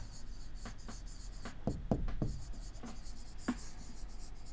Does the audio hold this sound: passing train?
no